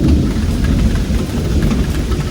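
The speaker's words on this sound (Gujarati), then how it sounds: "ત્યાં જો વરસાદ આવવા માંડ્યો છે" Heavy rain pours outdoors with a deep thundery rumble, a loud, dense, continuous roar close by, with no voices.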